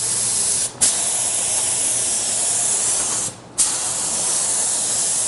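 Spray gun laying down a coat of translucent automotive paint, a steady close broadband hiss broken by two brief pauses as the trigger releases and squeezes again.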